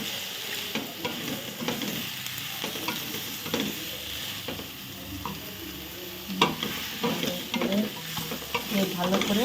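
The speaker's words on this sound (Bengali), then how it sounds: "সবজিগুলো এর মধ্যে ঢেলে দেব। অনেকক্ষণ কষিয়ে নেব।" Fried vegetables sautéed and stirred in a pan for fish curry, with a steady sizzle and repeated scraping and clinking of the spoon against the pan, close and continuous, with no talking.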